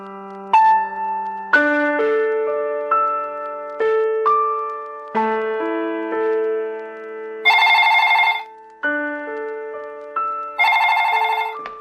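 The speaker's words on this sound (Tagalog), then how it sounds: "Sino kaya itong tumatawag?" A telephone rings with an incoming call, a loud chiming ringtone melody of clear electronic tones that repeats in phrases for about twelve seconds, alone without voices.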